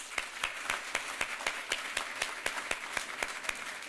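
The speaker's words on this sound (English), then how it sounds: "can we please clap it out again for these juniors?" Audience applause at a Wall Fellows induction ceremony for newly inducted juniors, a steady patter of many hands with sharper individual claps standing out, moderately loud in a room.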